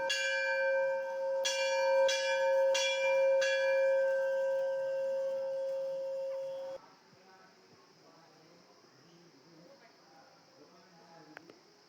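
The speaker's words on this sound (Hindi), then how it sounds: "घंटी बजाओ।" A metal temple bell at the Man Shila Devi shrine in Champawat, Uttarakhand, is struck four or five times in quick succession. Its bright ringing tone sustains for several seconds before cutting off, and faint voices and quiet ambience follow.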